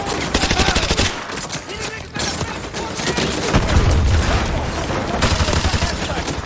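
Rapid gunfire from Modern Warfare 2 Remastered fills the whole stretch. Loud bursts of automatic fire and heavy booms overlap the whole time with hardly a pause.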